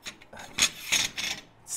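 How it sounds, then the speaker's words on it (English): An adjustable stand slides against friction with several short raspy, rubbing scrapes over under two seconds, close and fairly faint, with no talking. "Slides, and then it locks."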